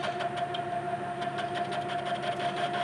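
A drill or tap cutting threads into a broken Toyota Tacoma steering rack, a steady mid-pitched motor whir with a fine rhythmic chatter, fairly quiet and without talk.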